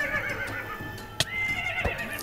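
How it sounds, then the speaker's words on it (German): A Minecraft horse whinnies in the game world, a short bright neigh rising over a steady background hum, with a sharp blip and a low thump near the end. "Also da schon wieder so ein Pferd."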